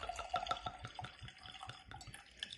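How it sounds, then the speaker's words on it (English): Smoke Wagon Uncut Unfiltered whiskey, a 115-proof pour, trickles faintly into a glass. The splashing is soft and uneven, with a few light drips and clinks. "Let's pour it."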